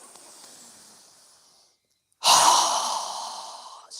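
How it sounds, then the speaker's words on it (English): A strong, breathy exhale through a wide-open mouth during a yoga breathing exercise, a loud rushing breath lasting nearly two seconds after a brief pause, preceded by a softer airy breath. "exhale with a strong breath with our mouth open wide"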